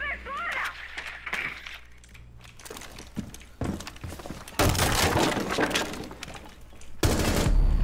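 Gunfire in the tactical shooter Rainbow Six Siege, sharp bursts and shattering impacts breaking out in loud clusters between quieter stretches, with a player speaking in between.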